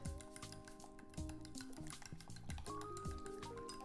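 Fork beating pumpkin puree into muffin batter in a bowl, a continuous quick rhythm of tapping, clinking strokes, close and fairly soft, with no speech.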